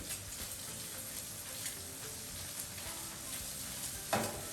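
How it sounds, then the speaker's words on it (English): Bacon frying in a pan beside pasta cooking for carbonara, giving a steady close crackling sizzle throughout with a sharper pop near the end, no talking. "Our bacon is just crisping up as we speak, and it's getting ready."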